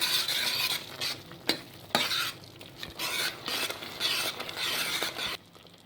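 Pumpkin and grated coconut being stirred in a pan for pumpkin halwa, with repeated scraping strokes over a soft sizzle and a few sharper knocks of the utensil against the pan, close and fairly loud, ending quieter.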